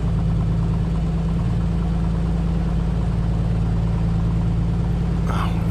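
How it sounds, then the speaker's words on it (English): A real aircraft piston engine warms up with its RPM rising, giving a steady, loud, continuous low drone with a throbbing idle pulse and a brief higher whoosh near the end. "You can actually hear and feel that engine warming up. As it warms up, the RPM will increase."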